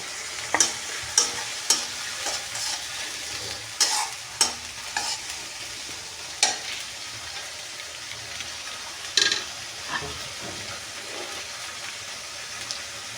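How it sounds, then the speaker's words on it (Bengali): Cumin paste goes into a hot pan of bottle gourd greens and shrimp, giving a continuous soft sizzle broken by a series of sharp spoon taps and scrapes against the pan; no talking. "এখন আমি তার মধ্যে দিয়ে দেব জিরা বাটা 1 চা চামচের মতো।"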